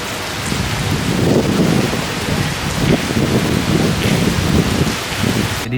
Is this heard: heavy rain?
yes